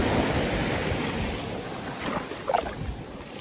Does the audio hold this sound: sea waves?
yes